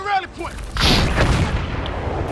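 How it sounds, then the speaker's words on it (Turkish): A loud, sustained explosion from a bomb attack in the Battlefield 6 video game, a broad rumbling blast with crackling debris. A voice is heard briefly at the start. "Bomba saldırısı, bomba saldırısı."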